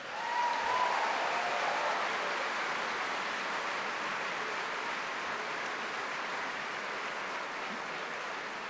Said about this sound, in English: Could we have a round of applause for everybody watching wherever they are around the world?